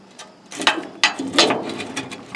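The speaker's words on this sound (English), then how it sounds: "The dump mechanism works on it and everything." A Craftsman lawnmower's dump mechanism is worked by hand, sending out several close metallic clanks and ratcheting clicks in an uneven sequence, fairly loud, with no talking.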